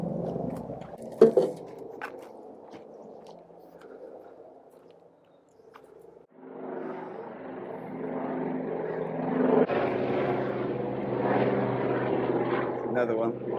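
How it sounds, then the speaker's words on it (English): Outdoors at a homestead, a large firefighting airplane passes overhead. Its propeller drone swells from faint to a loud, sustained roar over the second half, with people talking nearby. "It's a big fire plane coming over."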